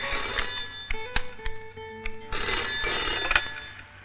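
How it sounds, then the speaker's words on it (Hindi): An old-style telephone bell rings in two bursts separated by a short gap, loud and close, with no one speaking. "फोन है।"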